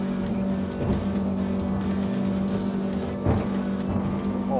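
A Karnic 2251 MKII open boat running near 6,000 RPM at about 37 knots, its engine roaring loud and steady over rushing water and wind, with brief surges and thumps from the hull.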